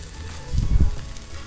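An egg frying in a pan, a close sizzle that swells briefly in the middle and then settles back to a steady crackle.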